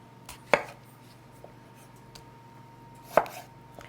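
Knife chopping tomatoes for a Greek salad on a cutting board, two sharp separate chops a few seconds apart against a quiet background with faint small knocks between, no speech.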